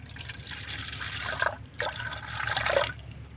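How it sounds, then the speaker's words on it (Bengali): Water is poured into a bowl from a cup, producing a steady splashing trickle with brief pauses, heard close and alone while a breakfast snack is prepared. "তো বাটির মধ্যে আমি জলটাকে নিয়ে নিব।"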